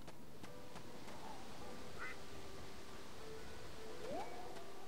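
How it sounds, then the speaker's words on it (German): A duck in the farming video game Harvest Moon quacks a few short, scattered times over a constant background hiss, with faint clicks in between. "Ach, guck mal, da hinten ist der Ente."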